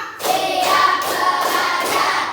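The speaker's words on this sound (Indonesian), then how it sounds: "tepuk konsentrasi. Tepuk 1, tepuk 2, tepuk 3, tepuk 4, tepuk 5." A class of schoolchildren claps a concentration clap pattern in unison, loud and close, a few sharp grouped claps over a couple of seconds.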